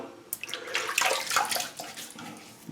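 Tap water running and splashing close by as a man wets his face before a shave, a steady broadband wash with a few louder splashes over nearly three seconds.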